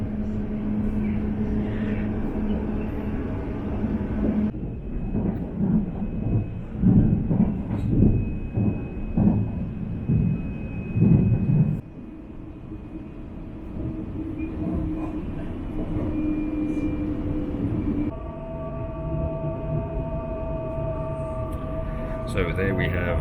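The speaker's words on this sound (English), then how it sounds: "Oh, there's a green train." A green train rolls past on the Jinshan Railway near Shanghai, a rumbling, clattering passage that swells in the middle and then gives way to a quieter steady hum with tonal whines.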